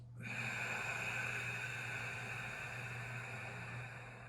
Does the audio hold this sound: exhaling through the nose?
yes